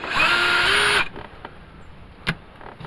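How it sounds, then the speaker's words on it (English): A power drill whirs loudly for about a second while removing car seats, its pitch shifting as it bites, then stops, followed by a few faint clicks and a knock. "Looks like just the right drill."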